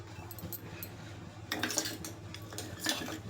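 A spoon clinks against the inside of an empty pressure cooker on a lit stove as ghee is added, with a few quiet metallic taps and scrapes over a low hum.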